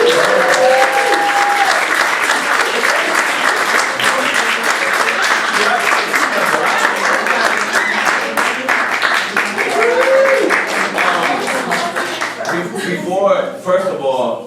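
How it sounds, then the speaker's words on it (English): Sustained audience applause and clapping after a stage play, dense and continuous for most of the clip, thinning slightly near the end, with some voices audible in the crowd. "Another round of applause, please."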